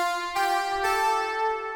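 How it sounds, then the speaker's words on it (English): Sustained buzzy synth chords from Serum, a saw wave layered with oscillator B's square wave carrying three unison voices and heavy detune, change pitch twice, loud and steady, no voices. "Now we're layering that with oscillator B,"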